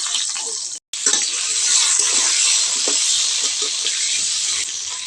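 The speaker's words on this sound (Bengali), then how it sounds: "আলুগুলো এখন আমি লম্বা লম্বা করে কেটে নিয়েছি। আলুগুলো আমি ভেজে নেব।" Long potato strips fry in hot oil in a home kitchen. They give a loud, steady sizzling hiss that drops out for an instant early on, then carries on unbroken at close range.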